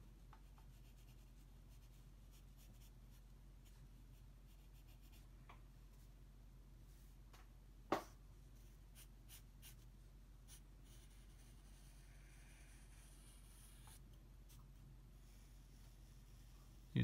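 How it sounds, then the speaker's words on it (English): Pencil drawing on paper during a quick big-cat sketch, a soft, faint scratching and rubbing that runs steadily throughout, with one sharper tap midway and no talking. "Use the side of the pencil to get that wider mark"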